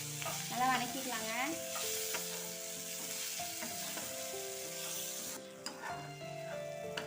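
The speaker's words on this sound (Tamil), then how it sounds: "நல்லா வதக்கிக்கலாங்க." Onions and tomatoes sautéing in a pan for paneer butter masala, a steady sizzle with scraping stirs up close and a tonal hum running underneath, no voices.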